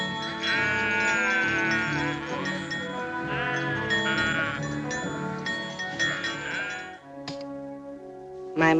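Sheep bleat repeatedly in long, wavering cries, loud and close, a flock of several animals calling over one another continuously, with a sharp knock near the end.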